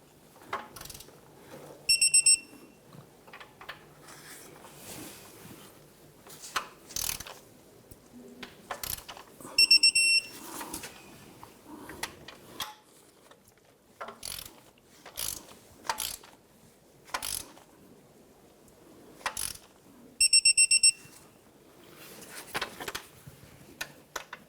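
A torque wrench clicks and ratchets while tightening water pump bolts on a 1997-2006 Jeep Wrangler, sharp mechanical ticks scattered through the clip with three short, louder beeping bursts standing out.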